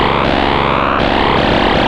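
Feedback effect from a Xaoc Koszalin synthesizer module processing a sine wave: a loud, dense, distorted buzzing drone with shifting harmonics and a sudden tonal change midway.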